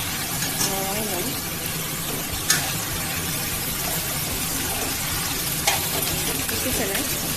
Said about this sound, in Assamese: এইখিনি ভালদৰে লৰাই ল'ম।